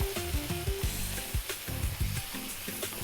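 Lamb bhuna curry sizzling and frying in a pan, a dense continuous crackle with stirring clatter mixed in, close and steady.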